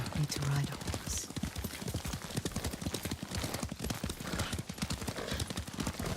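A horse is ridden in the video game Ghost of Tsushima, its hooves beating in a quick, steady rhythm that stays close and loud for several seconds.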